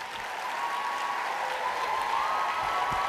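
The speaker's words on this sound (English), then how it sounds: "Clap." An audience at a Relay For Life summit applauds in a steady, dense wash of clapping that rises slightly in intensity, with no speech over it.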